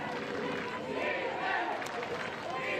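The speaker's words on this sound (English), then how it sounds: "You hear the crowd cheering the defense" Spectators cheering the defense during the Germany versus Colombia bronze medal ultimate frisbee game: a distant, sustained crowd roar and chatter, fairly faint and steady, with light clapping mixed in.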